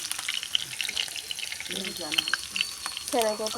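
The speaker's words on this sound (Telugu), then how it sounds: "ముందుగా పచ్చిమిరపకాయలు వేసుకుంటామండి ఇది కాలింపు వేసుకుంటున్నామండి శనగపప్పు" Green chillies and chana dal crackle and sizzle in hot tempering oil for a Telugu buttermilk curry, a steady frying hiss with scattered pops under brief low chatter.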